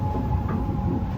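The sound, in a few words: Japanese scenic train running from Akita to Aomori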